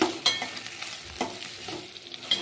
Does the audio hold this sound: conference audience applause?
no